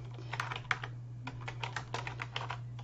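Search terms are typed on a computer keyboard in a series of quick, uneven key clicks, close and fairly quiet, over a steady low electrical hum with no talk.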